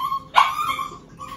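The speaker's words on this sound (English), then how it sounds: "I gotta go, the dog's barking" A dog barks once nearby, a short sharp bark, with a steady electronic tone running underneath throughout.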